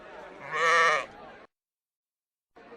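A sheep gives a single bleat, close and fairly loud, followed by silence and then soft background sound.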